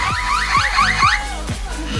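A pet parrot mimics a car alarm with a repeating cycle of rising electronic whoops, loud and close, followed by a few more squawky pulses.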